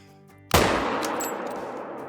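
A single loud Mosin Nagant rifle shot fired at a pronghorn in the hunting game Call of the Wild, with a sharp crack after a quiet lead-in and a long rolling echo that fades over the next second and a half.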